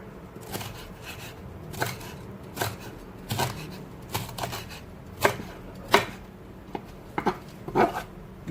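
A knife chops steadily through a firm banana blossom on a board, with repeated crisp thuds at an uneven pace and no talking.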